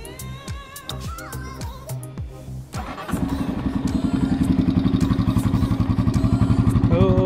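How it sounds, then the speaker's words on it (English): An offroad motorcycle engine with an aftermarket exhaust and dB killer fitted idles roughly, then fires up into a loud, steady, throbbing exhaust note close by. "You want to hear how the bike sounds with this exhaust?"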